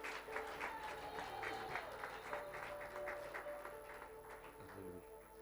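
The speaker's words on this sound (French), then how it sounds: "Est-ce que nous pouvons encore acclamer pour le Seigneur?" A church congregation claps for the Lord during a worship service, a soft, continuous patter of many hands heard from some distance, with faint tonal sounds lingering underneath.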